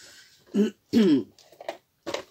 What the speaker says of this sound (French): si vous m'entendez racler la gorge comme ça toutes les 3 minutes